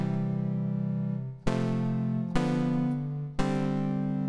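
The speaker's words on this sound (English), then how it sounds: "we've essentially got a sawtooth wave that morphs in a nonlinear way into the triangle wave." KRC Mathwaves wavetable synth tone morphing from sawtooth toward triangle wave, a sustained buzzy harmonic note retriggered in four steps, each step slightly mellower, loud and alone.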